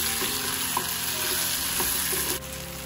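Ivy gourd and tomato curry cooking in a pan, a continuous close sizzle and frying hiss with a few soft stirring knocks, no talking.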